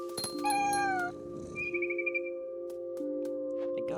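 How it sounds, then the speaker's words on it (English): A cat in the video game What Remains of Edith Finch gives a pair of clear, rising meows up close, then a soft, brief trill, with steady game ambience underneath and no talk. "the cat meowing and purring sounds are just a delight"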